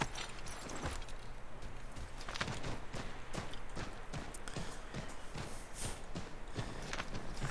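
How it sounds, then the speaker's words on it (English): Horse hooves clip-clopping in the Assassin's Creed III video game, a steady faint rhythmic clatter of hoofbeats heard alone. "Is that a horse back there? It is."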